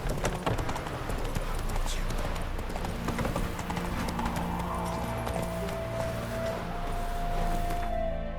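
Hooves clip-clop in a steady, fast gallop of a horse in The Witcher 3 video game, loud and continuous throughout, with a brief voice over the start and a long tone near the end.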